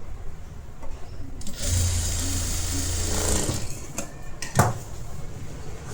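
A sewing machine stitching a blouse seam, a close mechanical whir building into a rapid steady run of stitches for a couple of seconds, then stopping with light clicks and handling noises.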